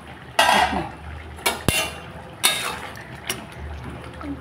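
Lid being lifted off a covered cooking pot of spinach and dal bori curry, with several sharp metallic clanks and scrapes of pot and utensils at close range, spaced irregularly.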